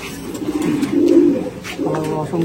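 Racing pigeons kept for competition flights coo in low, rolling phrases, close and fairly loud, with faint chirps and a trace of distant voices behind.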